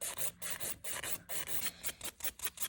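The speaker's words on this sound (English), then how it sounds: "using the 180 for finish filing. Filing in towards the center apex." A 180 grit file rasps across a sculpted acrylic nail during a French tip set in quick, rhythmic back-and-forth strokes, close and fairly soft, with short pauses between passes.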